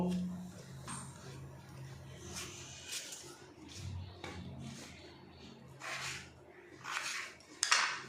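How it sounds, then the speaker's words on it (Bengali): Knife chopping potatoes into medium cubes on a board, scattered soft taps and clinks spaced irregularly, faint and close, with quiet background hum. "এখানে মিডিয়াম সাইজ আর ডুমো ডুমো করে কেটে নেব।"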